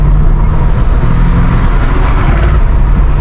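A BMW F90 M5 Competition with catless downpipes and front-mount intakes accelerates, its loud, raspy exhaust roaring in a dense, steady engine drone close to the listener with no talking.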